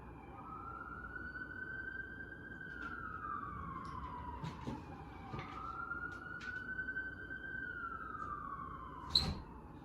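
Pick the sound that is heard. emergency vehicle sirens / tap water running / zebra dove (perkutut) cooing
emergency vehicle sirens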